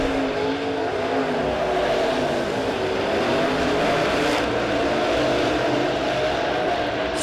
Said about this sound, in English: as they race their way into turn number 3